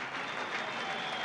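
Fans at Penrith Park applaud and cheer in a steady, dense wash of clapping at the halftime break of a 1990 rugby league match between Penrith and Brisbane, heard at a distance.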